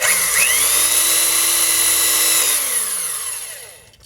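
A high-pitched power drill whines loudly up to speed, grinds steadily into a die-cast metal toy car for a couple of seconds, then spins down and fades.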